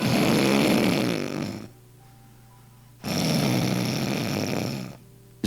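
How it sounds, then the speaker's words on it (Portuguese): Loud, close snoring played during a church sermon: two long, rasping inhalations separated by quiet pauses, with no talking over them. "Gente, ronco é terrível."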